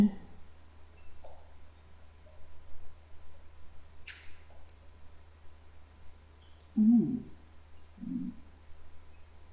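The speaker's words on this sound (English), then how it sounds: "and then you right click it." Computer mouse clicks during web page editing, a few sharp scattered clicks spread over several seconds, close and fairly faint against a quiet hum.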